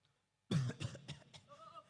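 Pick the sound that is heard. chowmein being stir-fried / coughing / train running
coughing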